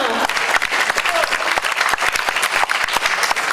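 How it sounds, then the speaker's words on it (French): Festival crowd applauding a performer after his song, dense clapping with sharp individual claps standing out, loud and close, sustained throughout with no talk over it. "on peut encore l'applaudir bien fort"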